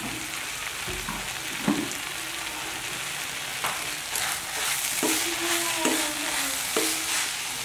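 Kinema, a fermented soybean curry, fries and sizzles in a pan after salt is added, while a spoon scrapes and knocks against the pan in scattered strokes, close and clear, with no voices.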